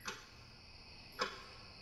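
A clock in the horror video game Mimic gives two faint, sharp ticks about a second apart over a quiet background hum.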